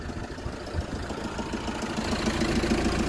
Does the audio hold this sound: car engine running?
yes